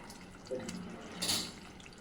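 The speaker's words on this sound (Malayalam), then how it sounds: "ഒന്നുകൂടി സ്വാദ് കൂട്ടാൻ വേണ്ടിയിട്ടാണ് തേങ്ങാപ്പാൽ ഒഴിക്കുന്നത്" Coconut milk poured into a pot of beetroot curry, a short liquid pour with a soft splash and trickle, moderately quiet and close.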